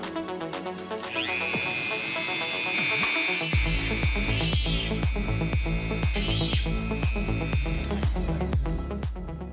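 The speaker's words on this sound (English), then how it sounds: "I bought myself a little drill press from my Dremel." A small Dremel drill press whines at high pitch, its motor spinning up and then pulsing in a steady series of rapid bursts as it bites into material.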